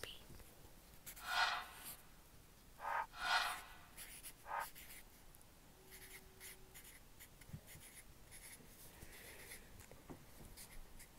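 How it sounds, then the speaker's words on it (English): A Sharpie marker scratches across a sheet of paper in a quiet room, close and soft, with a few distinct bursts of squeaky strokes early on, then fainter scribbling. "So next up, we have writing on a piece of paper with Sharpie."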